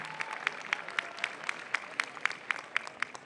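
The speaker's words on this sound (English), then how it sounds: "A big round of applause for them." Applause from a commencement audience for a pipe band, sparse, distinct claps in a steady rhythm, moderately distant in a large hall.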